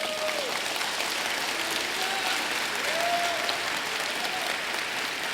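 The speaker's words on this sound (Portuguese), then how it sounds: "E pode aplaudir," A church congregation applauds, a broad, sustained wash of clapping with faint cheering voices and a few rising shouts woven through it, steady throughout.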